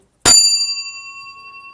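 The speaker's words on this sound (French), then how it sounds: "c'est certainement la cloche d'origine de très belle qualité en airain, d'où sa sonnerie" An original bronze clock bell struck once by its hammer, a sharp close strike followed by a bright ringing tone with clear overtones that slowly decays.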